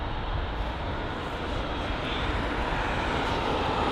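A Lufthansa airliner, a Boeing 747, roars at London Heathrow with a steady, dense engine rumble that holds loud and even throughout, with no voices.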